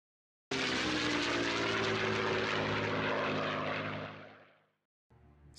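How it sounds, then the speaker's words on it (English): Six Chinook transport helicopters start their engines at Al Jaffa Air Base: heavy rotor and engine roar, loud and sustained with rhythmic blade chopping, fading out near the end before resuming briefly. "Six Chinook transport helicopters start their engines at Al Jaffa Air Base"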